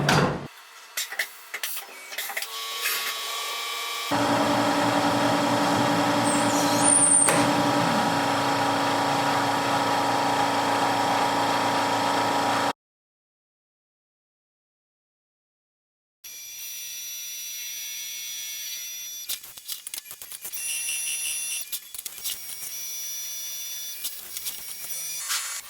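A CNC mill machines, contours and bevels a steel knife lock part, giving a steady loud whir with a high cutting whine, then a pause of silence before the spindle resumes more quietly with intermittent tonal squeals.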